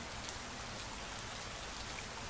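A close, steady downpour hisses without pause, with individual drops ticking through the even rush and nothing else heard.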